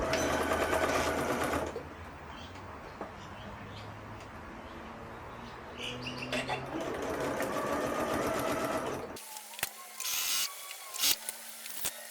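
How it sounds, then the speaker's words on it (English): A sewing machine stitches along a shirt neckline from edge to edge, whirring loudly in short bursts at the start and again mid-clip, with birds cooing faintly in the background and a few clicks of handling at the end. "we're going to sew all the way along from edge to edge"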